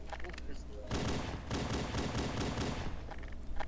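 Rapid gunfire from dual-wielded pistols in the video game Halo 3, a dense continuous burst of shots at moderate volume with game noise around it.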